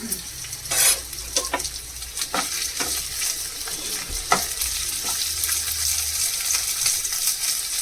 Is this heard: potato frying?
yes